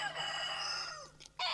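Backyard chickens, chunky meat-type birds, crowing and clucking up close: a long drawn-out crow fills most of the moment, followed by a couple of short clucks.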